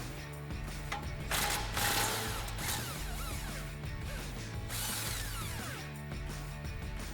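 Hand ratchet loosening the 17mm brake caliper bracket bolts on a 2005-2022 Toyota Tacoma, with steady clicking and mechanical rattling close by, alone with no voices, through most of the take.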